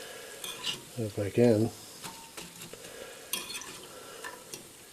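Dandelion flowers deep frying in hot oil, a soft crackling sizzle with a few metallic scrapes and clinks of a fork in the pot, while a person speaks briefly and another voice hums nearby.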